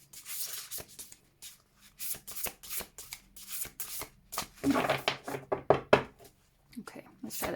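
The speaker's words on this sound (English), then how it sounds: "It's a little bit big for my tiny hands, so it's a bit clumsy to shuffle" A large oracle card deck is shuffled by hand in a series of quick papery riffles, taps and clumsy slaps, close to the microphone, while someone talks softly in the background.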